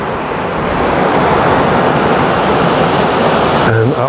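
Water pours over a weir on Dartmoor in a loud, steady rush of broadband noise heard close up, with no pauses, and a short rustle near the end.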